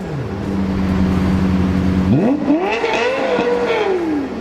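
A stock Lexus LFA engine holds a steady loud drone, then its revs climb and fall in a quick, smooth rise, heard up close and alone.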